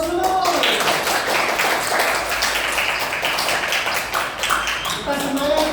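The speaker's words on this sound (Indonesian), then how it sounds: "beri aplaus dulu" Classroom applause during a student group presentation, steady dense clapping from many hands filling the space throughout, with voices and chatter mixed in underneath.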